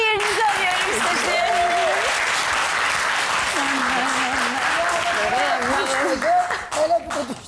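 A studio audience at a cooking competition show gives sustained, loud applause under a host speaking over it, with the clapping thinning toward the end.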